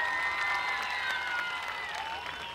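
Audience applause and cheering for a singer at a concert in Adana, a dense, steady wash of clapping from a large crowd with whistles and shouts, continuing loudly throughout.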